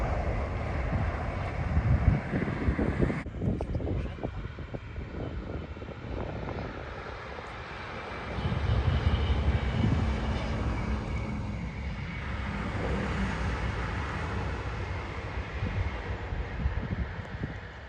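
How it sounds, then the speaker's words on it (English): Camera drone flying outdoors on a damp, hazy day, giving a steady broad whirring drone that stays loud and continuous throughout, mixed with rumbling wind buffeting the microphone. "We're going to get the drone up so you can see just how bad it is."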